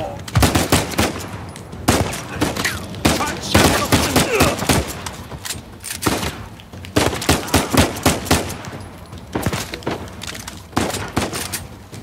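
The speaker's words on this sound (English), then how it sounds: "Who's shooting?" Uncharted 4 gunfire rattles out in repeated loud bursts of rapid shots, clustered volleys broken by short gaps, with a voice speaking faintly at times.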